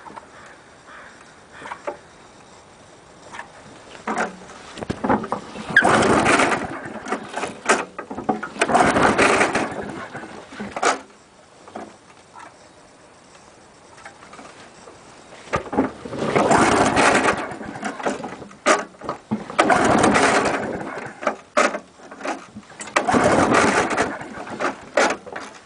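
A 1993 Briggs & Stratton engine on a 1996 Murray push mower is cranked from cold with a sticking starter. Five or six separate rough bursts of pull-start effort come close and loud, with quiet gaps between them and no steady running.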